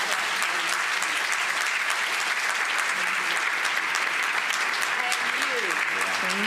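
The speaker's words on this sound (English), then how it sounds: "Can you all give an enormous round of applause?" Enormous round of applause from a live audience at an event on landmarks of Black History, steady dense clapping throughout at moderate distance, with a few faint voices beneath.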